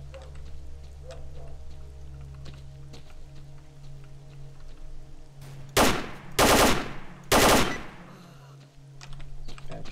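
Three loud, close gun bursts in S.T.A.L.K.E.R. Clear Sky, firing in quick succession after a stretch of low ambient hum and faint patter.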